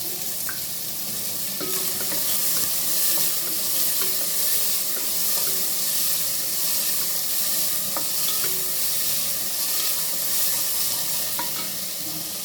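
Carrots, beans, potato and peas fry in a pan for a wheat rava kichadi, giving a steady, close sizzle with occasional scraping and stirring taps.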